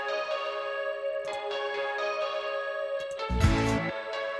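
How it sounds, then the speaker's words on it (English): Indie rock electric guitars, one panned left and sent to a spring reverb hard panned right, ringing sustained chords with a few strums and a louder low thump near the end. "So the one that's panned to the left is being sent to a spring reverb that's hard panned to the right."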